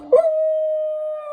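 A dog named Rose lets out one sustained, steady howl after a short yip-like onset, close and clear, holding a single tone for over a second with no talking.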